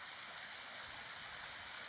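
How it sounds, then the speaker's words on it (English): Small waterfall splashing in Cropton Forest, a steady close hiss of falling and running water without pause, with no voices. "How lovely is that waterfall?"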